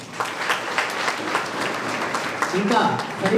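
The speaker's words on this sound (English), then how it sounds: "So once applause to our chief guest today" An audience applauds a chief guest at a college national conference, steady clapping from a crowd in a hall that swells slightly near the end, with a voice talking over it.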